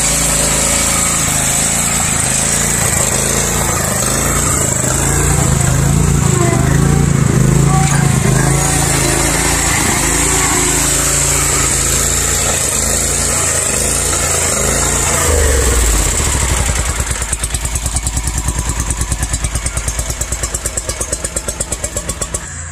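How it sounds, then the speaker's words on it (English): A lawn mower runs continuously while mowing in November, a steady mid-distance engine drone with voices talking over it, the motor note thinning toward the end. "can you believe November and we're mowing"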